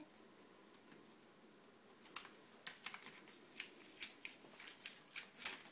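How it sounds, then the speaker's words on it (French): A sealed envelope is opened during a magic challenge with quick, faint paper tearing and rustling bursts in a quiet room, growing more rhythmic toward the end, with no talking. "Myriam, je te demanderai d'ouvrir l'enveloppe, s'il vous plaît."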